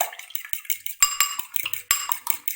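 Spoon clinking and scraping against a metal bowl while chaat masala and salt are stirred into shami burger filling, a quick irregular series of close, bright taps and scrapes.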